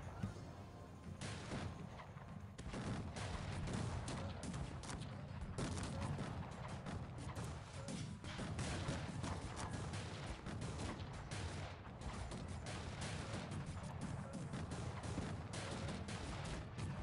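Cannon artillery volleys in the strategy game Cossacks 3, a dense, continuous barrage of booming gunfire and crackling shots under faint voice.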